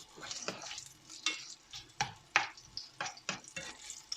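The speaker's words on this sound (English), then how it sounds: "So we'll just fry them off." Chunky vegetables for chicken jalfrezi fry in a pan, with soft sizzling under repeated stirring scrapes and utensil clatter at an irregular rhythm, close and fairly quiet.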